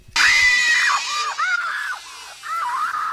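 Willie Scott screaming in Temple of Doom, a loud sustained high-pitched shriek followed by shorter wavering cries, close and alone.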